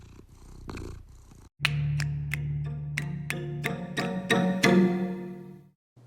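A cat purrs close up, a low rhythmic rumbling with repeated breaths, loud and steady after a short quieter start, with faint ticking sounds mixed in.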